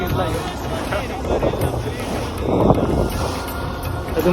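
A boat ride on the sea near Worli, Mumbai, with rough waves: a continuous rush of wind buffeting the microphone over the low rumble of the boat and splashing water, loud and close, with voices faintly mixed in.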